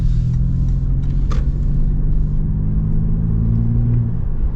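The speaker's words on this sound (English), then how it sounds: "it sounds pretty cool with the exhaust that they put on these" Toyota 4Runner TRD Pro with an aftermarket exhaust cruising on the road, a deep steady engine drone and low exhaust rumble heard from inside, loud and continuous, with a brief higher whoosh partway through.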